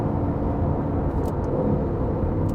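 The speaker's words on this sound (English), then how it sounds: "Gives a little bark out the rear as well as you change gear in track mode" A deep, steady V8 engine rumble from an Aston Martin Vantage sports car exhaust holds at an even, fairly loud level throughout, with no clear revs or pops standing out.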